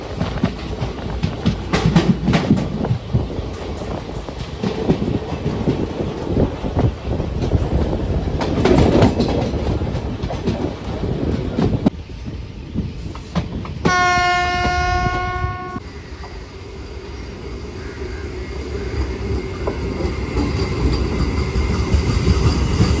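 Kacheguda Express, train number 17651, runs on rails near Kurnool on a single line. A steady, close rumble and clatter of wheels fills the clip, and a loud, sustained horn blast sounds briefly near the end.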